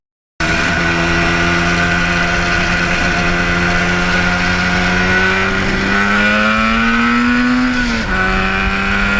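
A Yamaha RD400 two-stroke motorcycle being ridden, its engine droning loud and close with rising and falling pitch as it accelerates and shifts, no talk.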